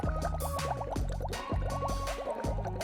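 Vitamin C tablets fizz in water mixed with oil and paint, giving quiet, repeated bubbling gurgles and small drips in an uneven rhythm.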